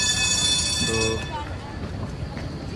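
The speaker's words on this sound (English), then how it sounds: "This is tram number 4." A number 4 tram passes in central Zürich near the main station and Bahnhofstrasse, a close whirring hum with high tonal whine that fades after a second, with a brief word spoken over it.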